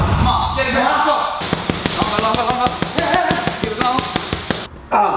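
Repeated ball slams during a full-body circuit training workout, a steady series of sharp impacts roughly every third of a second over music, with a coach shouting encouragement.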